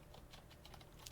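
Fast typing on a computer keyboard at a command prompt, a steady run of light clicky keystrokes over a low hum, close and without any voice.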